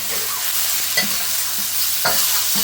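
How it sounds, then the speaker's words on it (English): Deveined grey prawns sizzle and fry in a hot pan for chow mein, a steady close hiss broken by a couple of sharp stirring scrapes and clinks, with no voices. "we've got some grey prawns that are de-veined. You just want to cook them until they're pink"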